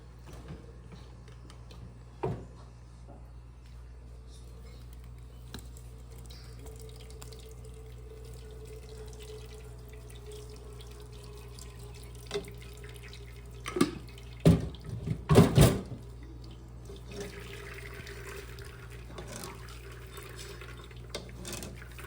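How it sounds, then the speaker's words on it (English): Grated coconut being strained for its milk: soft trickles and wet squeezes, faint and close, with a few louder splashy bursts toward the end and no talking. "So I'm straining the coconut so we can get the juice out of it."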